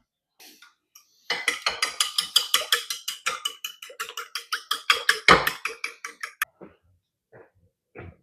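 Whisking a batter of eggs, milk and vanilla in a bowl: a run of quick, rhythmic metallic clinks and sloshes for about five seconds, close and clear, with one heavier knock near the end, then quiet.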